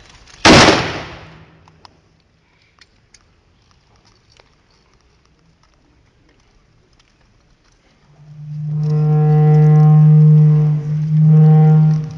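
A single sharp, loud rifle volley fired as a salute at a funeral, then a long hush with small rustles before a loud, sustained tonal note swells in.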